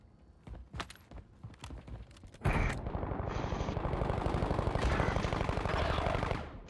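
Gunfire in a video game shootout: a few scattered sharp shots, then a sustained loud burst of rapid automatic fire lasting several seconds before cutting off.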